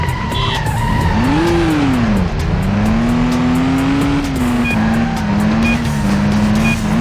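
A car accelerating and pulling a 180 handbrake turn in the PS2 game Stuntman, with a loud, steady engine drone and a long screech of skidding tires that rises, dips and carries on to the end.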